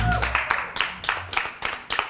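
A TV talk-show studio audience claps to welcome guest Katla Diamond on stage, a run of fairly sharp, evenly spaced claps close by rather than a dense roar.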